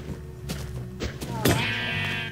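Minecraft sheep bleating as they are struck in the video game, with soft hit thuds followed by a wavering bleat, mixed with light game sounds.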